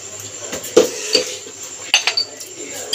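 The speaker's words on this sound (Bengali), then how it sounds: "আবার চামচ দিয়ে ভালো করে একটু ম্যাশ করে নেবো কলাটাকে" A metal spoon mashing banana in a bowl for banana fritters, with sugar and a pinch of salt added, gives a few sharp clinks and scrapes against the bowl, close and fairly loud.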